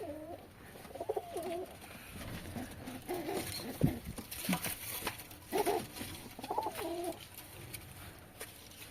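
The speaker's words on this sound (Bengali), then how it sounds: "আর একটা উপরে ডাকছে" Domestic pigeons kept in a backyard loft coo in repeated low, throaty phrases, close by, with one bird calling from a perch above and soft fluttering and shuffling in between.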